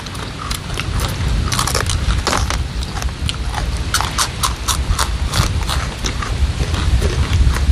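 Crisp vegetables and fruit being bitten and crunched up close, a dense run of loud crunchy bites and chewing that continues steadily throughout, no talking.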